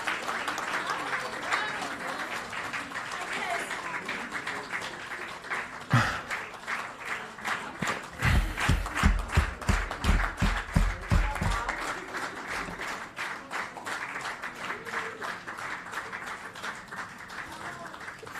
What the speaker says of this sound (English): would like to please warm me in acknowledging with a roaring round of applause to the team putting this together